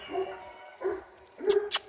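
Dog barking close by, three short woofs spaced about half a second apart with a whiny edge, the last followed by a brief yip.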